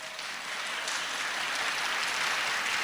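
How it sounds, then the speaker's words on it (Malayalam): A congregation at a church sermon claps together in praise, a continuous, even burst of applause that holds steady and slightly swells, heard from a moderate distance. "കൈയടിച്ച് താരസ്തുതിക്കും."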